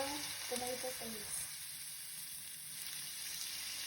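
Tomato paste mixture for turkey kalderetang stirred in a hot pan, a steady sizzle with soft scraping that fades a little after the first second.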